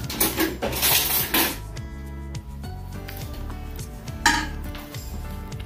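Metal cooking pot and utensils clatter and clank close by, with bursts of scraping and knocking, then a steadier background hum.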